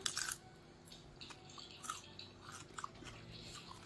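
Crunchy food being chewed close up, a run of crisp, irregular bites and crunches repeating over a few seconds, fairly quiet with no talking.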